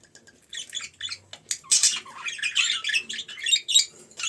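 Busy, high-pitched squawking and chattering of budgerigars, many overlapping calls nearby, continuous with no talking.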